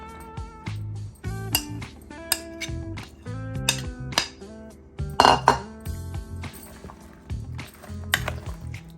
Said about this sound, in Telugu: వీటన్నింటిని ఈ మిక్చర్కి బాగా అంటేటట్టు మిక్స్ చేసుకుందాం